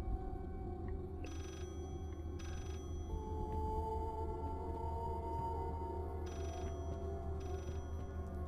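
A telephone rings in the horror game Layers of Fear, repeated bursts at regular intervals over a droning, humming ambient bed, fairly distant and muffled, with no one talking.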